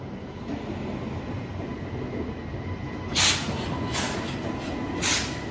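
An express train with LHB coaches pulls away in a steady, continuous rumble of wheels on rails, with a few brief metallic screeches rising over the running noise.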